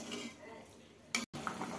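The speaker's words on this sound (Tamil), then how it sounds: "அப்படியே நல்லா கலந்து விட்டுக்கோங்க." A spoon stirs a tamarind mixture in a pot with soft scraping and swishing, a brief clink, then a short silence before stirring resumes.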